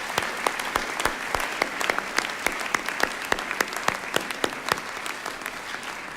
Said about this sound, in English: please join me in a round of applause for the faculty of William Paterson University